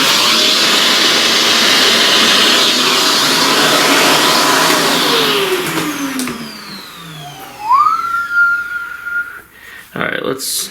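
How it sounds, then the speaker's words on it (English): Vacuum cleaner drawing up pastel dust on a drawing, a loud steady whine and rush that winds down partway through and fades out, followed by a brief rising whistle-like tone and some handling knocks. "Alright, let's vacuum some of that."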